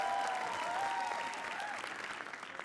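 Audience applause welcoming a performer at a comedy roast battle show, a steady, dense wash of clapping that fills the whole stretch and eases off slightly toward the end.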